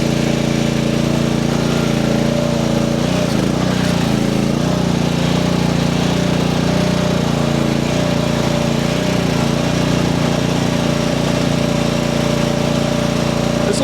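The small engine of a Chinese mini skid steer drones steadily and loudly while it plows deep snow, with a constant mid-pitched hum and slight wavering under load throughout. No one talks.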